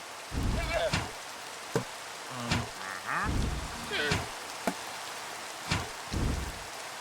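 Steady rain pattering in Minecraft with the PVZ Cubed mod, a constant hiss beneath intermittent game effect sounds and short bursts of other noise.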